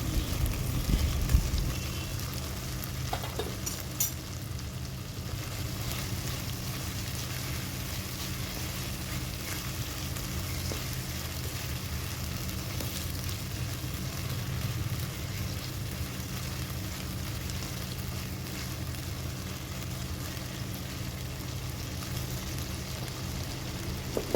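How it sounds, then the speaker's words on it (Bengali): Chopped tomatoes frying with spices in a pan, a steady low sizzle and crackle with an occasional stir, going on without talk. "টমেটোটা দিয়ে মশলাটা আর একটু ভাজা ভাজা করে নিয়েছি"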